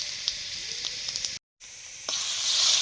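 Dried red chillies and panch phoron spices crackle in hot oil with a steady, close sizzling hiss. The sizzle cuts out for a moment, then returns and swells louder.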